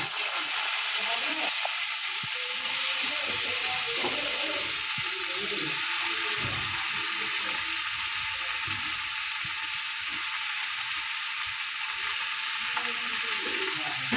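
Boiled banana flower and cardamom frying in a pan for a prawn recipe, sizzling steadily and fairly loud, with occasional stirring scrapes and a voice speaking softly over it.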